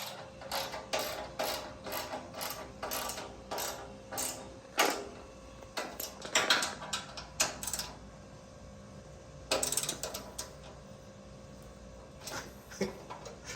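Bolts being tightened with a ratchet while installing a RiG'd Supply SideHack and UltraTable: quick rhythmic ratcheting clicks in short bursts with pauses between, close and clear.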